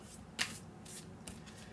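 A deck of oracle cards, a different type of deck showing places around the Earth, being shuffled by hand in a few short riffling bursts, close and fairly quiet with no talking.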